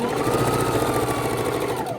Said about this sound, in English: it goes easier up on the sewing machine